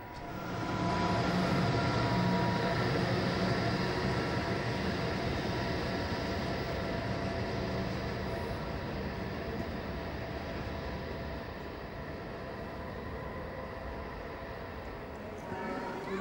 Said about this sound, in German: Im Zwei-Stunden-Takt fahren drei IC-Linien den Bahnhof an, meist gezogen oder geschoben von den Baureihen 101 oder 120.